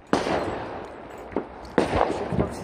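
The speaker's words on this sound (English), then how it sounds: "We've got about three different locations where the fireworks are going off." Fireworks bursting outdoors from several locations around a neighborhood, a few sharp cracks and thuds spaced over a couple of seconds, moderately loud against a low background rumble.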